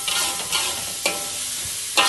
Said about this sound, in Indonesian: Tumis sekejap dengan minyak yang kita goreng ayam tadi.